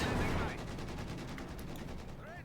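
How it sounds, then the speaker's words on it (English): Rapid machine gun fire from a bunker emplacement in Company of Heroes 2, a dense sustained burst of shots with a loud start that eases slightly, mixed with other battle noise and a brief whistling sweep near the end. "Almost got the machine gun bunker there. Machine gun emplacement."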